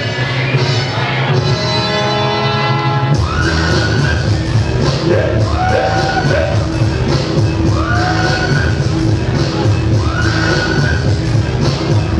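A boxing-event crowd roars and cheers loudly and steadily as a fighter is welcomed into the ring, a dense continuous wall of noise with a sudden swell partway through and whistles riding on top.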